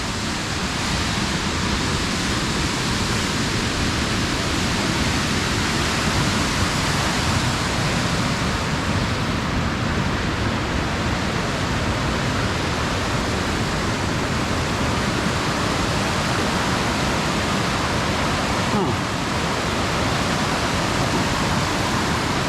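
Loud, constant rushing of a fast-flowing mountain stream on Mt Hood fills the air evenly, a dense roar with no pauses, close by.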